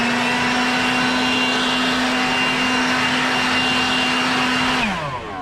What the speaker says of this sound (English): But I got my blower here, had a few leaves on it, blew it around.